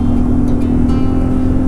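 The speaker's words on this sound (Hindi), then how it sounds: "अपनी बाइक क्या रोर कर रही है, सुन रहे हो कि नहीं?" A motorcycle engine on a long highway ride from Delhi toward Jammu drones steadily and loudly at close range, a continuous low roar mixed with road and wind noise.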